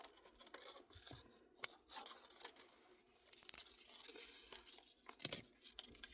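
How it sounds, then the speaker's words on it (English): Amaryllis leaves being snipped off with scissors, close and quiet: a series of short crisp cuts and rustling, rasping leaf sounds in irregular bursts separated by brief pauses. "first we're going to cut off his leaves"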